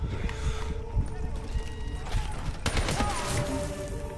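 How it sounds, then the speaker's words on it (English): Gunfire from enemy soldiers in the shooter game Black Ops 3, a busy run of rapid shots and bursts mixed with game effects, with a voice talking and yelling over the action. "Stop shooting me, soldiers!"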